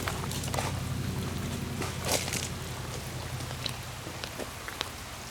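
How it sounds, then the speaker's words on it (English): Steady rain falls outside, a soft, continuous hiss with scattered drips and patters over a low background hum, faint and even throughout with no voices. "I'll stand in the rain for you guys."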